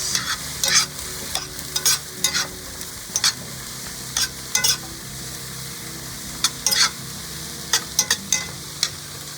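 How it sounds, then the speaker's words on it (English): Mushrooms fry in olive oil in a frying pan with a steady close sizzle, while a utensil stirs them in irregular bursts of scraping clatter across the pan. "Now we're gonna put the mushrooms inside. Give it a nice mix."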